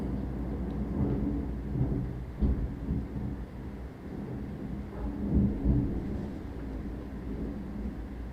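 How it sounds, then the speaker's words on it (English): Deep thunder rumbling through a storm, a long low roll that swells and fades for several seconds with a couple of heavier booms, heard at a distance with no voices. "Huge thunder. Wow. You guys might have caught that on the mic."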